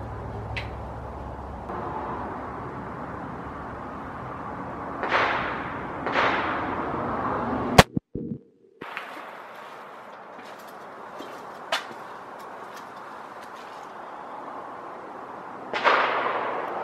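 A .300 Weatherby Magnum rifle fires during target practice outdoors, sharp distant-sounding cracks spaced several seconds apart over a steady background hiss, with one abrupt loud burst midway.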